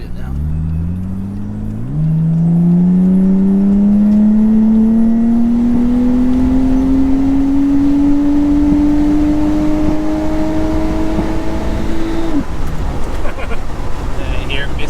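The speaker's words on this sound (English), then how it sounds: "It was misfiring up high, but the last couple of days I drove it, seemed to have fixed itself." A Nissan A31 Cefiro engine revs steadily higher for about ten seconds with a slight misfire at high rpm, then drops back, heard close and loud.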